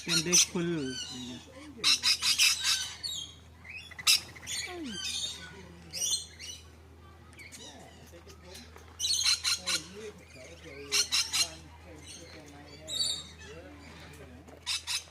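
Parrots at a zoo in the Netherlands give repeated harsh, loud squawks in bursts, some close and some farther off, with brief quiet gaps and a low steady hum underneath.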